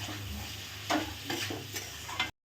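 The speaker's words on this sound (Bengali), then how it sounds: "এবার একটুখানি নেড়ে নেব।" Chopped medium tomatoes sizzle in hot oil in a pan while a utensil stirs them, with a few scraping sweeps over a continuous frying hiss, close and clear, without speech, before the sound cuts off abruptly.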